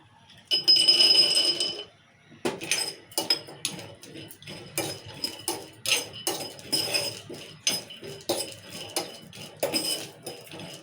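Peanuts tipped into a pan on a stove for lentil chutney, with a loud initial clatter followed by a string of sharp, irregular clinks and rattles as they are stirred and settle.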